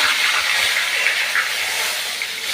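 Bay leaves sizzle in hot oil with dried chilli powder in a pan while mutton curry is cooked, a steady bright hiss and crackle close by with no voices.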